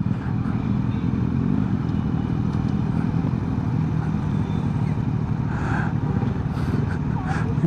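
A Kawasaki Z900 motorcycle out on a ride, its engine giving a steady, loud, close drone without clear revving peaks, with wind noise rushing over it.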